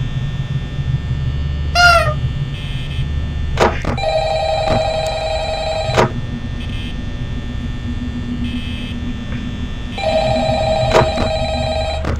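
An office telephone rings in the Five Nights at Freddy's video game, a repeated electronic trill in two bursts separated by a pause, over a steady mechanical hum and scattered electronic blips.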